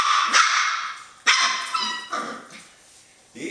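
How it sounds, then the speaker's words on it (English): Norwegian Elkhound dogs bark close by, a handful of sharp, loud barks and higher yips in an uneven rhythm with short pauses between them. No one speaks. "These are Norwegian Elkhounds from the very best lines in the world."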